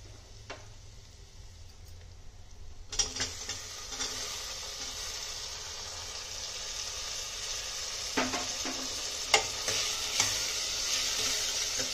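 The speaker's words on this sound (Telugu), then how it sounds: "కరివేపాకు వేగిన తర్వాత మనం ముందుగా చాప్ చేసి పెట్టుకున్న టమాటాలు వేసేసి అవి మెత్తగా అయ్యేదాకా ఉడికించుకోవాలి." Chopped tomatoes hit a pan of fried curry leaves on a medium flame. After a quiet start, a loud, steady sizzle erupts and keeps going, broken by occasional clicks and taps from stirring.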